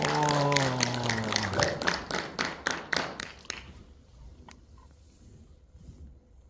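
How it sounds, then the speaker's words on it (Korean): A burst of clapping from an audience of nearly 200 welcoming a speaker at a Gwangju education event follows a sustained tone, then thins into scattered claps and fades to quiet room noise. "큰 박수로 맞아주시기 바랍니다."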